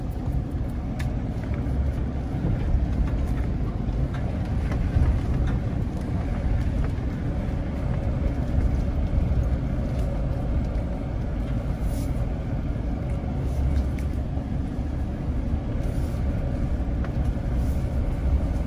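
A four-wheel-drive vehicle travels slowly along a rural dirt driveway, a steady low engine rumble and road noise from inside the cab that continues without pause.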